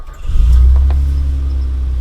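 A 1980 military Mercedes G-Class engine starts in neutral, a sharp crank followed by a loud, steady low idle rumble close by, running alone without voices.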